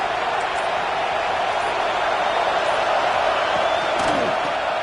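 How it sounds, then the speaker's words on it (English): Dense, steady roar of a football stadium crowd at a Notre Dame vs Alabama game, a broad continuous wash of cheering voices with no breaks, loud and sustained throughout. "Listen to the crowd energy here in the early going."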